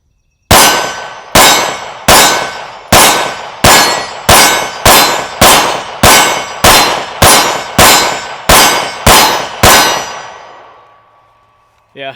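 A Sig P320 pistol fitted with an Apex flat trigger fires about twelve loud, sharp shots at a steady, fairly quick pace, each crack ringing out briefly before the next, followed by a short pause.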